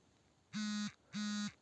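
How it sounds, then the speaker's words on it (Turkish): Two identical Discord message notification chimes arrive about half a second apart, each a short, clear electronic tone, with no talking over them. "bildirimiz geldi"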